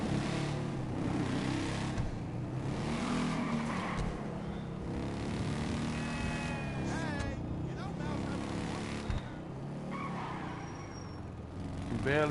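A motorcycle engine in GTA V, from the biker add-on, revs and roars steadily and loudly throughout, with someone talking over it.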